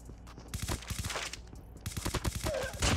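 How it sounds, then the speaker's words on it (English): Footsteps and rapid gunfire bursts in a Call of Duty Mobile battle royale match, dense overlapping shots and movement sounds at close range throughout. "The amount of footsteps I hear right now."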